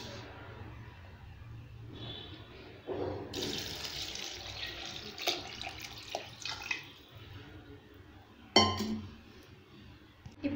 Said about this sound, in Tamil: இப்போ 2 டம்ளர் அரிசிக்கு 3 டம்ளர் தண்ணி ஊற்றிக்கலாம்